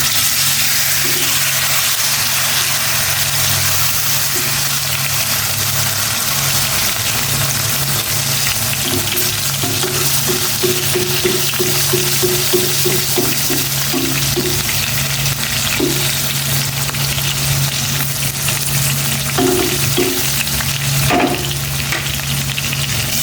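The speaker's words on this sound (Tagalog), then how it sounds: "Umuusok ng aking kawali sa mantika. Lagay ko na ito." Milkfish (bangus) fries in smoking hot oil in a pan, a loud, steady sizzle that runs throughout with bursts of crackling spatter and occasional stirring clatter, with no voices.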